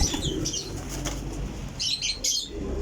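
Pigeons flapping their wings in flight, with bursts of wingbeats close by and a faint coo or chirp in the background, no talk.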